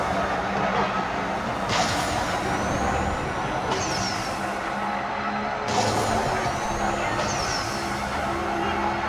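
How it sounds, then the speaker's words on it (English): A Cadillac CT5-V Blackwing racing in the NFS No Limits video game, its engine droning steadily with repeated gear-shift surges and tyre squeals, loud and continuous, with someone talking over it. "This Cadillac is absolutely ripping."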